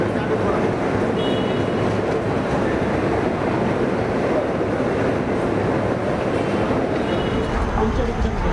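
A passenger train pulls into Chennai Central railway station with a steady, loud rolling rumble and rail clatter that continues without a break throughout.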